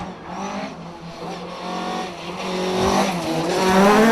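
A rally car engine roars past at speed on the Ards TT special stage of the 2015 Circuit of Ireland, revving hard and growing louder as it approaches, with a brief tire squeal.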